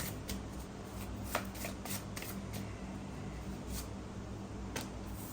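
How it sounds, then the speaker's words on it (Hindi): A deck of tarot cards is shuffled by hand close up. Soft, rapid riffling and flicking repeat throughout, with a few sharper snaps standing out over a faint background hiss. "अच्छे से हम शफल करते हैं पहले।"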